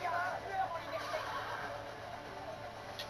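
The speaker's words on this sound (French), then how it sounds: "Donc là, je vais faire tomber le cheval." A horse whinnies in the Assassin's Creed Brotherhood video game, a high, wavering neigh at the start that fades into quieter game ambience, with a faint trailing call.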